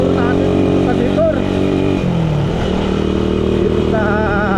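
A Suzuki Raider 150 motorcycle engine drones steadily and close while being ridden on a rough provincial road. Its pitch dips and climbs slightly, and a rider talks over it throughout.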